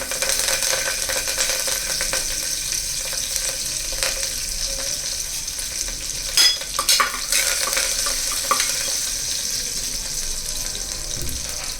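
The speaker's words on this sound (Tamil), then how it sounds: "சீரகம் சேர்த்ததுக்கப்புறம் கல்பாசி கொஞ்சம் அடுத்து பூண்டு கருவேப்பிலை" Cumin, garlic and curry leaves fry in hot oil with a steady crackling sizzle throughout, broken by a few sharper pops and stirring clatters near the middle.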